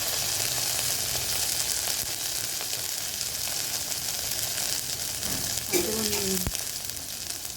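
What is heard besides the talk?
frying tomato with ginger, cumin, chilli paste and turmeric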